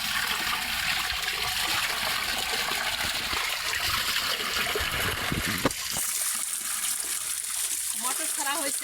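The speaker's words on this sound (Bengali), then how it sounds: "মটর ছাড়া হয়েছে বাসায়, মটর ছাড়া হচ্ছে, মটরের ঠান্ডা পানি উঠেছে।" Water gushes and splashes steadily from an electric motor pump at a house, a continuous rushing flow that thins to trickles near the end, with a voice briefly audible.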